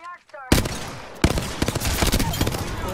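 Rapid gunfire in the game Apex Legends, a dense burst of loud close shots, a short pause, then another volley of repeated shots, with a faint voice at the very start.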